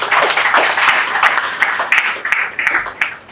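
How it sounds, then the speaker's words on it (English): An audience at a Lagos transportation event applauds, a dense burst of clapping from many hands that gradually thins out over a few seconds, fairly loud and without speech. "Please can you give them a round of applause?"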